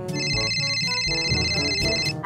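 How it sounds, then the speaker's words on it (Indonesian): A telephone ringtone sounds during an online group discussion. A loud, repeating electronic melody of high bright tones plays steadily throughout, with lower background sounds beneath it. "Murid yang ada di sana sebagian juga kebingungan karena ada suara telepon berdering."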